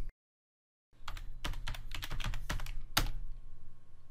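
A computer keyboard clicks as a password goes in: after a second of silence, a quick irregular run of close, crisp keystrokes plays over a steady low hum, with one firmer final press like Enter.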